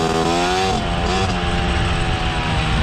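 Mobylette moped engine with a low-slung exhaust pipe on a mountain pass road, a steady loud buzzing drone held close throughout with slight shifts in pitch.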